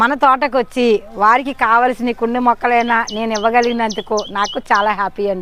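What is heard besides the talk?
birds chirping in a garden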